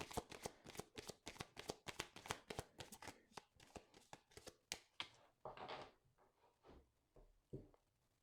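Rapid riffle-shuffling of a Petit Lenormand card deck, a quick run of sharp crisp flutters up close, then slower bridging and a few softer slides and taps as the cards settle.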